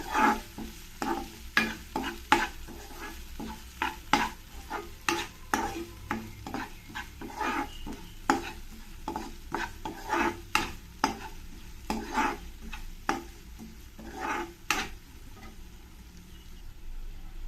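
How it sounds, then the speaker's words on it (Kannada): Onions frying in a pan while being stirred for a brinjal ennegai dish, with a steady sizzle beneath repeated sharp scraping strokes of a spoon, close and fairly loud, no talking. "ಈರುಳ್ಳಿ ಸ್ವಲ್ಪ ಟ್ರಾನ್ಸ್ಪರೆಂಟ್ ಆಗೋ ಥರ ಚೆನ್ನಾಗಿ ಫ್ರೈ ಆಗಬೇಕು"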